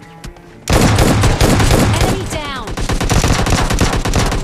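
Dense, loud gunfire fills a firefight in PUBG Mobile Lite, rapid automatic bursts overlapping one another after a quiet start, with a whirring effect partway through and no break in the shooting.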